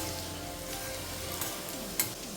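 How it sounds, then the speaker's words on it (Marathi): Cumin seeds and finely chopped garlic sizzling in hot oil in a kadhai for dhaba-style dal tadka, a steady close crackle and hiss with a couple of light stirring clicks near the end. "जिरं तडतडलं की बारीक चिरलेला लसूण घालून परतून घ्या"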